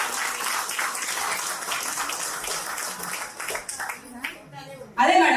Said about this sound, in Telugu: వాళ్ళకి ఆఖరిసరిగా ఒక పెద్ద చప్పట్లండి